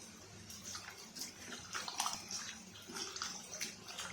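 Raw meat being washed by hand with water and lemon in a kitchen, with steady splashing and sloshing water and irregular handling noises close by, no talking.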